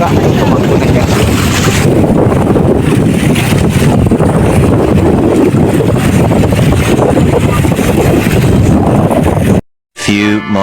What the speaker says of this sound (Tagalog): Kaya na yung bangka. Tumakbo na siya.